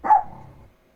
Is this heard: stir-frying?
no